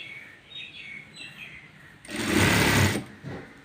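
A sewing machine stitches the front panel of an A-line frock in one loud, steady run of about a second, between quieter stretches of room tone, with no talk.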